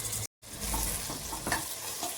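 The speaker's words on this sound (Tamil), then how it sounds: "இது கூட கொஞ்சம் முந்திரி போட்டு சேர்த்து வறுத்துக்கலாம்." Cashews fry in hot oil in a pan for chickpea biryani, a soft continuous sizzle with scraping stirs, heard close and quiet with a brief dropout near the start.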